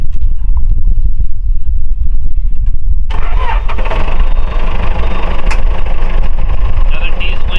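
A backhoe's diesel engine runs loud and close with a steady low rumble, then brighter mechanical clatter and hydraulic whine join in partway through as the machine works logs.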